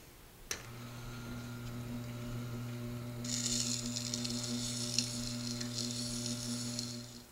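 A Tormek T-7 wet grinding stone, freshly changed over with the jig set at the correct angle, grinds a blade edge: a steady motor hum runs throughout, with a wetter, hissing scrape rising partway through and continuing alone.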